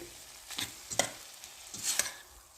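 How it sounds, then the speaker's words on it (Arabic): Chopped tomatoes are stirred into a pot of green beans cooking in oil with a little water, giving a few soft, quiet scraping strokes and faint sizzling, with no voices. "هلا بدي انزل البندورة مثل ما انتم شايفين فوقها، قطعتها وجاهزة البندورة. هلا بنحرك"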